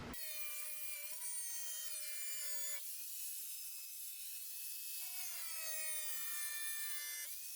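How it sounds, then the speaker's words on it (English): An angle grinder scores Hardie board siding on a shed. The cut comes up close as a loud, continuous high-pitched whine that shifts pitch a few times as the disc bites and eases, with no voices. "So I'm going to use the angle grinder again."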